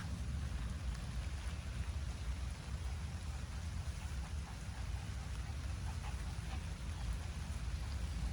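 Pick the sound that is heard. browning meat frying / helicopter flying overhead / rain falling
rain falling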